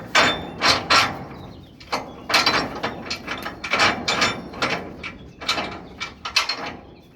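A ratchet tightening the lock on a swap body container, rapid clicking bursts repeated in strokes with short pauses, close and loud.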